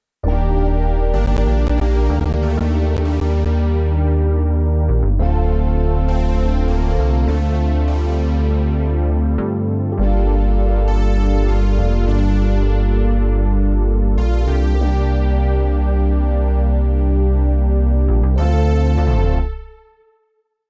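A modern G funk beat with layered synthesizers over a deep bass line, dense and loud, playing in repeating phrases with clear section changes roughly every five seconds before stopping abruptly.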